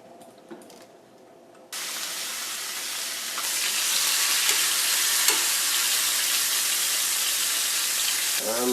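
Beef hits a hot pan on a stovetop and sizzles loudly, the hiss jumping in and then swelling into a steady, dense frying crackle that continues to the end.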